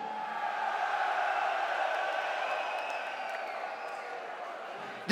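A large live concert crowd at a heavy metal show in Munich sends up a sustained roar of cheering that holds steady at a distance and slowly tapers.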